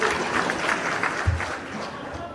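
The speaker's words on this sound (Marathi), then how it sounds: "हिच्यासाठी काका टाळ्या वाजवा" Audience clapping at a Supriya Sule speech, steady applause spread across the whole short stretch at moderate level, with a crowd murmur mixed in.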